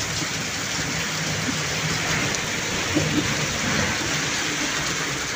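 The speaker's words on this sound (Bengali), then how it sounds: "এই এরকম যদি বৃষ্টি হয়ে থাকে তাদের অবস্থা খুব খারাপ" Heavy rain pours down steadily as a dense, even hiss across the whole stretch, with a few louder patters and low rumbles underneath and no voices.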